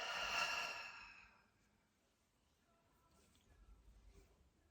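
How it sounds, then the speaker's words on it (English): A long, deep breath exhaled slowly during a guided meditation, soft and close, fading into quiet room tone with faint rustling afterward. "Big breath in."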